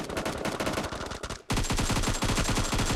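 Rapid automatic gunfire in the PUBG Mobile battle royale game, loud sustained bursts that break off briefly at mid-clip and then resume as a steady rattling stream of close shots, without talk.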